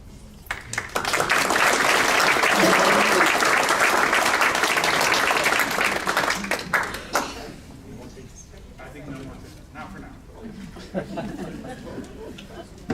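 A school-district staff awards ceremony audience applauds an honoree in Topeka, a loud burst of clapping for about six seconds that then fades into scattered claps and murmuring chatter.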